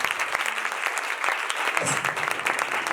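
Audience applause in a church during a Sunday blessings and anointing service: sustained, dense clapping from a crowd, steady throughout with a few sharper claps standing out, no talk over it.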